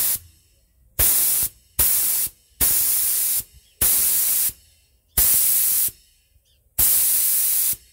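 Repeated bursts of hissing air from a paint spray gun set under 2 bar, six or so blasts each lasting about half a second to a second, loud and close with short pauses.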